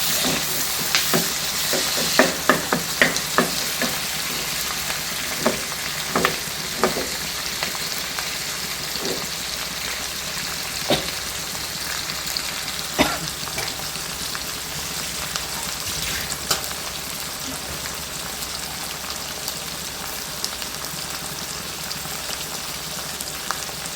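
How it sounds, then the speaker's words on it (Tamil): Chopped onion and tomato sauté in a hot pan for an eggplant tokku, with a steady close sizzle and irregular scraping stir strokes over it, and no voices. "இந்த தக்காளி போட்டு நல்லா வணக்கணும்."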